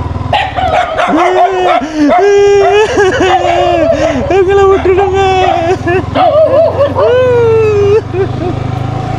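A dog near a crop field with a kennel barks and yips repeatedly in loud, close bursts while people talk over it.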